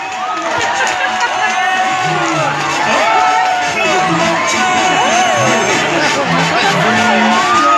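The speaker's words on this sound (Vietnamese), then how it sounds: "chúng ta cùng dành một tràng pháo tay thật lớn để cổ vũ cho các đội" A loud, dense crowd cheers and shouts continuously for competing teams at a fruit-eating contest, with excited voices and whoops layered over the din throughout.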